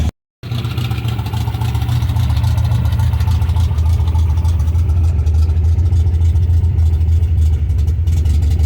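A 1972 MGB engine idles steadily around 1200-1300 RPM, a loud, close, even mechanical drone that starts after a brief silent gap and holds without change.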